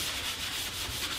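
Light hand sanding of stained wood to knock down raised grain, a soft continuous rubbing and scuffing close by that holds steady and quiet for about a second with no voices.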